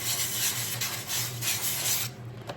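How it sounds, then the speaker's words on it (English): Soft sandpaper rubs over a gessoed wood round in quick back-and-forth strokes, a steady close scratchy hiss that eases off at the end. "sand it down"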